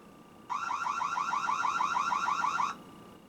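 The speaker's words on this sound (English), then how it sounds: "you can even trigger an alarm if you see some suspicious activity happening" A Reolink E1 Pro security camera sounds its alarm siren, a loud, rapidly warbling electronic tone lasting a little over two seconds against a quiet room.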